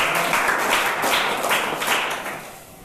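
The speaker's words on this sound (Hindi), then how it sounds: "ताली बजाओ।" A class of schoolchildren clapping their hands together in a classroom, a fairly steady burst of many hands that stays loud and close before tapering off toward the end, with no talking over it.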